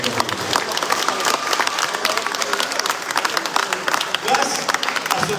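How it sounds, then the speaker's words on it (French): Audience applause at a junior cycling tour prize-giving ceremony in Martinique, steady dense clapping from a crowd held throughout at a loud, even level. "je souhaite demander au public d'applaudir l'équipe de la JC 231"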